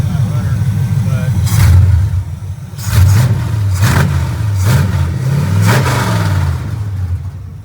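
A 1975 Pontiac Firebird Formula with an LS V8 swap revs repeatedly, several sharp throttle blips rising and falling over a rough idle, loud and close, with someone speaking briefly between revs.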